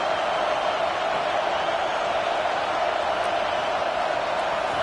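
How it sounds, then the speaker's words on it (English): A football stadium crowd roars for the home defense as one loud, dense, unbroken wall of cheering that fills the space. "Listen to this crowd just shaking the girders of this place"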